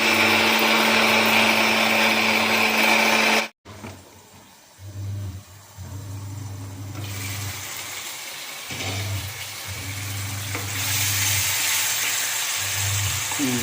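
A mixer grinder whirs loudly while grinding spice paste for Chettinad chicken curry, cutting off abruptly, then restarting in short bursts before running steadily again, close and without talk.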